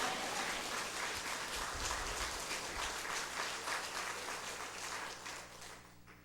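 A church congregation claps together in sustained applause, dense and even at first, then thinning and fading out toward the end.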